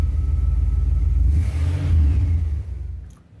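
A 1975 Cadillac Fleetwood engine idles at about 800–900 RPM, giving a steady, loud, deep rumble close by that swells slightly and then eases off near the end.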